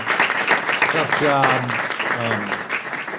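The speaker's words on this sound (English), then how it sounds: "can we just give a big round of applause to these?" An audience at a high school Board of Education meeting applauding the board members, dense clapping throughout with voices mixed in, one speaking over the applause partway.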